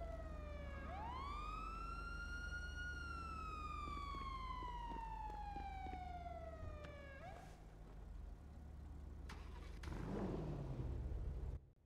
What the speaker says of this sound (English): Carter, you gotta shut your fucking sirens off